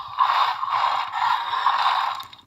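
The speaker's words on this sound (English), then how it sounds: "to be able to push this button down and have this mouth open here without without touching it at all" Mechanical mouth-opening action of a Jurassic World Fallen Kingdom Ceratosaurus toy figure triggered by a push button, a close, continuous grinding ratchet-like whir lasting about two seconds before fading out.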